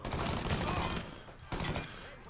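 Gunshots in the video game Mafia 3, a quick cluster of rapid shots at first, then a lull and a couple more sharp reports, fairly quiet in the mix.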